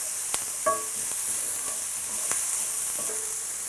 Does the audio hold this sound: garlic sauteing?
yes